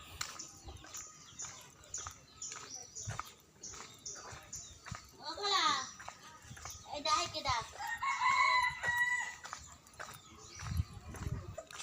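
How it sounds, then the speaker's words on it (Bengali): Roosters crowing in a rural village with mud houses, a few drawn-out calls at moderate distance over footsteps and someone talking. "শুনতে পাচ্ছেন মোরগ ডাকছে"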